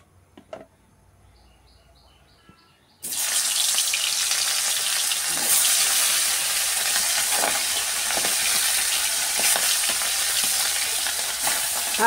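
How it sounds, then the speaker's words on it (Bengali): Hilsa fish pieces hit hot mustard oil in a wok after a few seconds of near silence, bursting into a loud, continuous, close sizzle that holds steady to the end. "সরষের তেল দিয়ে মাছগুলো একটু ভেজে নেব।"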